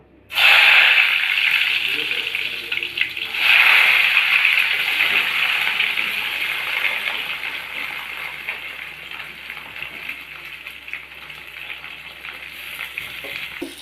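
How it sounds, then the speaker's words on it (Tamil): Tomatoes and onions frying in hot oil for paneer butter masala, a steady loud sizzle that surges at the start and again around four seconds, then holds throughout with a voice talking over it. "இப்போ எண்ணெய் காஞ்சிருச்சு. இப்போ நம்ம தக்காளி வெங்காயத்தை உள்ள ஆட் பண்ணிக்கலாம்."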